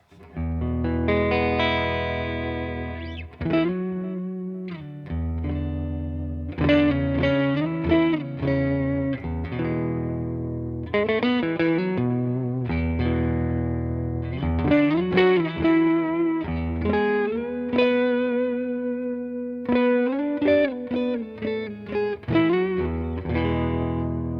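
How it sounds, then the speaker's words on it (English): Sustained guitar chords and notes through a Boss Nextone amp ring out with washy delay echoes and a lingering reverb tail, playing continuously with no talking. "I'll add reverb as well to see how that sounds. So I added a bit of delay."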